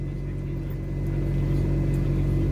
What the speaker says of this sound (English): AC's blowing. That's the noise.